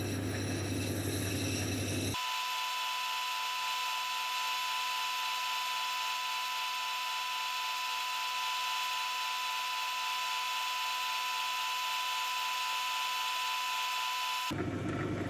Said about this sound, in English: I moved to 600 Nova wheels and bring the rest of the stone in and make those nice round smooth edges